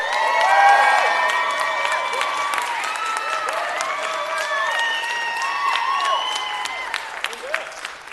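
Applause with cheering and whoops from a crowd at a city council meeting, honoring a young woman who organized an event; steady clapping over mixed voices, children shouting and high whistles, loud throughout.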